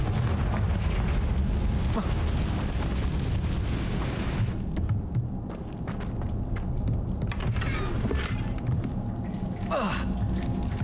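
A Confringo spell explosion from the video game Hogwarts Legacy, a loud booming blast that rumbles across the clip with dense low-end crackle and fiery bursts, set within continuous game effects and ambience.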